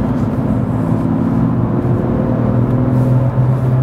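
A BMW M2 F87 pulls hard under acceleration, a loud continuous engine drone heard from inside the cabin with rising tone and steady road roar, no voices.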